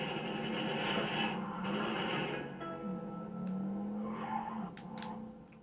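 Car driving in the video game Cyberpunk, a steady engine drone with tire skidding and screeching over it, game sound effects alone with no talk.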